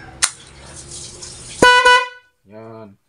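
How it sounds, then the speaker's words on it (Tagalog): Stock horn on a motorcycle sounds as the ignition switch is turned, a short loud tonal blast followed by a fainter second honk after a brief gap, with a sharp click just before. "kapag sinusi natin yung ignition switch, dun palang tuturog yung busina"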